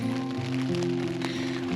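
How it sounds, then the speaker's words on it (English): Steady rain patters on a camping tent during a family cycle tour, a soft, dense, continuous hiss close around the shelter with faint low tones beneath. "It's raining outside, but we're warm and snug in our tent"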